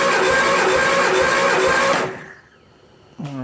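A 1969 Triumph Spitfire engine cranks over on the starter during a dry compression test, a loud steady rhythmic churning for about two seconds that stops, followed by a brief new sound at the end.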